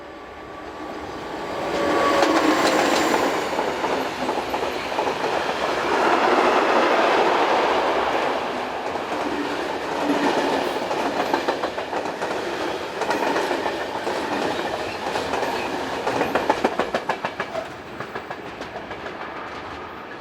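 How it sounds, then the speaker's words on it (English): A Swiss Re 6/6 Class 620 electric locomotive hauls a freight train from Langenthal towards Menznau, a steady rumbling roll with clickety-clack of wheels on rail joints building and passing over about twenty seconds, no voices. "Here the loco heads towards Menznau, with a trip freight from Langenthal"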